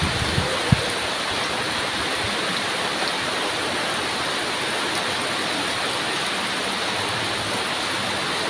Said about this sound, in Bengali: ভীষণ পরিমাণে বৃষ্টি হচ্ছে আজকে।